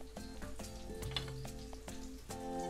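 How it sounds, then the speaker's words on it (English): Shrimp for Cajun po boys fry in a pan until browning, a steady close sizzle with a few stirring scrapes and clinks over it, no voices. "we're just gonna fry those just until they start to brown."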